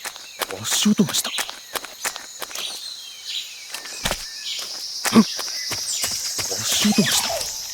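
Irregular footfalls in the Metal Gear Solid 3 game, scattered muffled steps over a jungle-like bed of insects and birds, with spoken voices mixed in.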